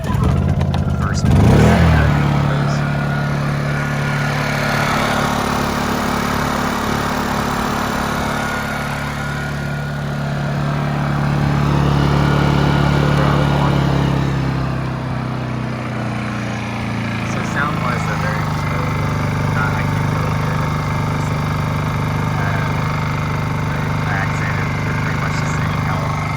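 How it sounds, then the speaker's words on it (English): A Honda EU-series inverter generator, which had sat too long with bad fuel, starts with the eco throttle off and the choke on. Its engine then runs with a steady, fairly loud hum, rising slightly in the middle. "So we'll go ahead and start it in eco throttle off, choke on."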